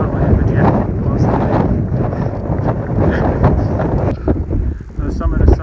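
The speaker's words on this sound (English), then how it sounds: "you might not be able to hear me. It's windy." Strong wind roars across the exposed summit of Sargent Mountain in Acadia National Park, buffeting the microphone in loud continuous gusts, with a person talking faintly underneath.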